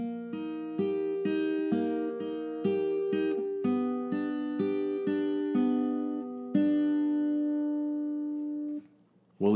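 Acoustic guitar playing a simple fingerpicked section of The Leftovers theme: steady plucked notes over sustained chords, close and clear, ending on a long ringing chord before a short break and a voice starting.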